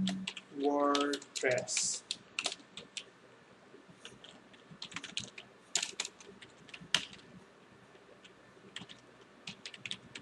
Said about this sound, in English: All you have to do now, type the site name.